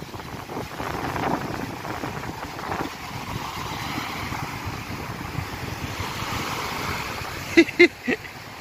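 Ocean waves wash steadily onto a beach on the Portuguese coast, a continuous broad surf roar with wind buffeting the microphone, joined near the end by a few brief sharp knocks.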